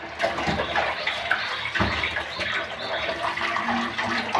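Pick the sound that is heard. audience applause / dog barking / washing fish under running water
washing fish under running water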